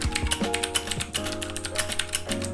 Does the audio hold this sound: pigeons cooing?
no